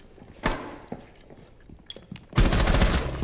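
Gunfire from a DMR rifle in a video game: a couple of sharp, isolated shots early on, then a loud, dense burst of rapid shots near the end.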